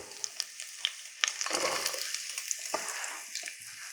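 Chopped onions and carrots are added to a hot pan and begin sautéing, with a soft, quiet sizzle broken by light clicks and stirring scrapes.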